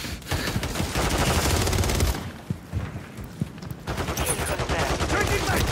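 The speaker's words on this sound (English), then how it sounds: "Where am I getting shot from?" Dense, rapid gunfire from an online shooter with snipers and a garden with shelters, sustained bursts up front that drop to a few isolated shots in the middle before heavy firing resumes.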